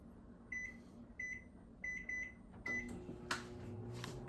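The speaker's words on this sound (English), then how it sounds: "So I'm gonna put this in my microwave," A microwave oven runs with a low steady hum, its beeps sounding four times in an even rhythm as the timer is set to four minutes, followed by a louder clatter near the end, at a moderate distance in a kitchen.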